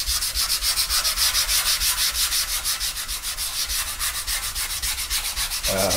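Sandpaper rubbed by hand across a custom nine-string electric guitar body, the paper gumming up; steady, close, loud back-and-forth strokes repeat rhythmically for several seconds with no talk.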